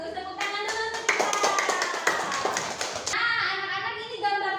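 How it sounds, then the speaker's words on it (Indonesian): A classroom of children claps together in a brief burst of quick, scattered hand claps, framed by a voice speaking before and after. "tepuk tangan dulu untuk kita"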